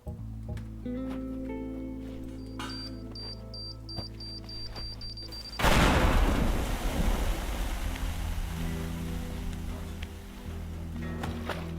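A bomb blast in the demolition game Teardown breaks the quiet with a sudden loud burst halfway through, then a rumbling, noisy wash of debris that lingers to the end, with no talking.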